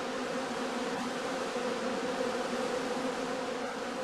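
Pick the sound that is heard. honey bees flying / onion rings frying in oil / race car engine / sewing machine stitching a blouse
honey bees flying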